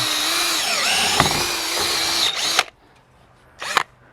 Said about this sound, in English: I'll drill the hole for the wire to go in.